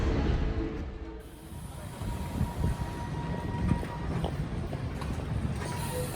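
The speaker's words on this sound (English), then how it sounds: "I finally found one of these old W-class trams" An old W-class tram rumbles past nearby on a Melbourne street with low, steady rolling noise and occasional metallic clacks, a faint hum running through it.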